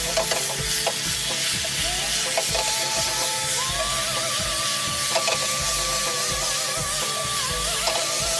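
Onions and butter sizzle and crackle steadily in a hot pan as they are tossed, with scraping stir sounds and a faint tonal hum running underneath, close and continuous.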